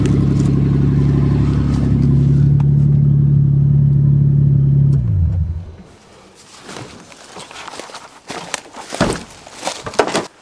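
Toyota Cressida engine idling steadily after being started following years of sitting unused since 2000, a loud close hum that cuts off about halfway through, followed by clatter and handling noises.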